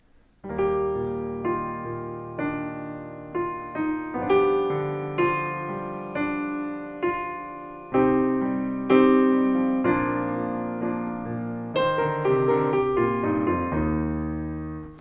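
A solo piano plays the chorus accompaniment of a song, with chords struck one after another in a slow, even rhythm, near and fairly soft.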